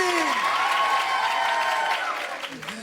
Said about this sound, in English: Give them a big round of applause there, jailers and jailbirds.